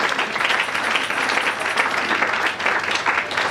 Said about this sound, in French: Est-ce qu'on peut acclamer pour les Seigneurs?